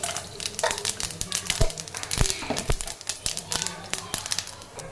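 Mustard and other tempering seeds crackle and pop in a little hot oil on the stove for rasam, sharp scattered spits and snaps running irregularly throughout, close and fairly loud.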